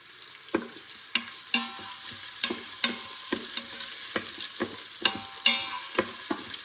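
Freshly harvested tomatoes sizzle in a hot pan as a utensil scrapes and stirs in regular, sharp strokes over the steady crackle of frying.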